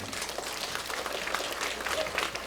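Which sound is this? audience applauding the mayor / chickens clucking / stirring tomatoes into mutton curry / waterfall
audience applauding the mayor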